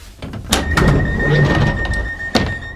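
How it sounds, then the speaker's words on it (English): A train's emergency door release thunks and releases, then the heavy sliding door rumbles open with a faint squeal and a sharp clunk near the end. "then pull the emergency door release handle"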